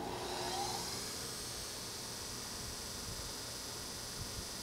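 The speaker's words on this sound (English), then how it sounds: "So I'm going to go ahead and turn the hydraulics on" Toyoda GOP32X50 OD grinder with its hydraulics and spindle running, a steady broadband whir and hum with a faint rising whine at the start, even and continuous.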